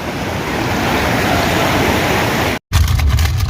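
Steady, loud rushing water of the cold Mandakini river fills the clip, a broad continuous roar like a fast river, with a brief dropout near the end before the flow resumes.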